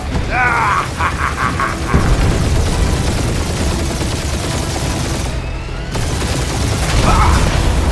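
Gunfire and mechanical weapon noise from the Guardians of the Galaxy game on PC: loud rapid bursts and clanking ratchet-like mechanisms over several seconds, with brief electronic tones and a short pause in between.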